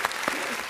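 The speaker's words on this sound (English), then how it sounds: "Please give us a warm round of applause to them." Audience applause closing a Bangkok Bank and PermataBank regional webinar, a brief burst of clapping lasting under a second, with a faint voice underneath.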